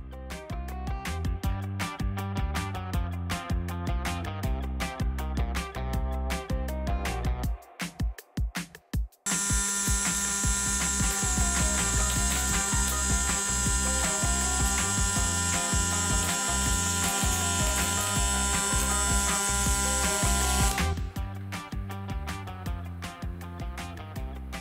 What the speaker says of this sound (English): Let's have Blaze run this weld.